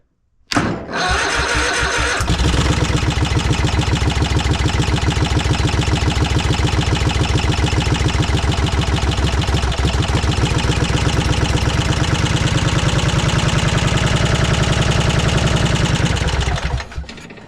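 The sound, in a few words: Craftsman lawn mower engine cold start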